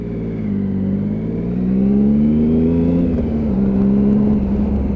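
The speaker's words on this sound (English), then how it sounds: "you've got that typical Triumph purr from that engine as well" A Triumph Sprint motorcycle engine purrs loudly and steadily during a road test, its pitch rising and easing slightly as the bike rides on, with no voices.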